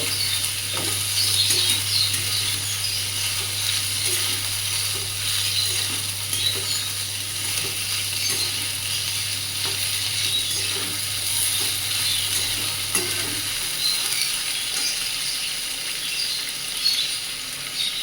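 Dried fish frying in a pan over a low gas flame makes a faint, steady hiss with a low hum beneath that cuts out partway, and occasional light ticks.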